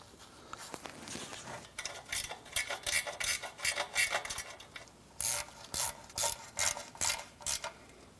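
A hand ratchet clicks in quick bursts while tightening bracket and oil pan bolts during automotive repair, with about a dozen close, sharp rhythmic strokes separated by brief pauses.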